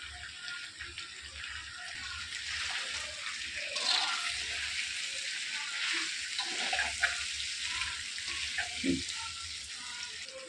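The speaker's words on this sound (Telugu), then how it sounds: "ఫ్రై చేసుకుంటున్నాను ఇలా ఆయిల్లోనే." Chicken frying in oil after turmeric goes in, a steady broadband sizzle that holds through the whole stretch at moderate level, with a few brief utensil knocks and faint stirring scrapes over it.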